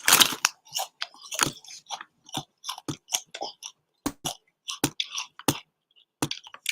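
Crisps are being eaten up close: a series of sharp, crunchy bites and chews come in irregular bursts with short silent gaps between them.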